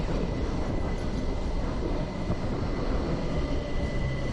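A steady, dense rumble of a moving train arriving at Lauterbrunnen, Switzerland, fills the space, with constant low mechanical noise and no pauses or voices.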